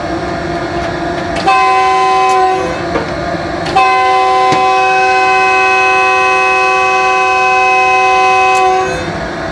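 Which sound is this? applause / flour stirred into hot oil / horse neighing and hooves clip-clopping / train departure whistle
train departure whistle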